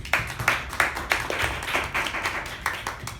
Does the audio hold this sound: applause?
yes